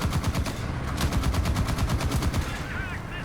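Rapid sustained machine-gun bursts from an ISU-152 tank destroyer in War Thunder, a fast regular train of loud sharp reports firing continuously, with a brief faint whine near the end.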